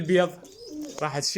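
Domestic pigeons coo in a soft, rounded, rolling call close by, with someone talking over them.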